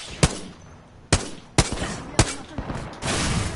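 Sharp gunshots from the video game Apex Legends crack out close and loud, about five irregularly spaced blasts, each with a short rumbling tail. A louder burst of noise follows at the end.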